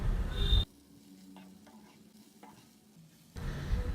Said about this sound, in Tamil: முருங்கைக்கீரை சேர்த்துட்டு ரொம்ப நேரம் நம்ம வதக்க வேண்டாங்க.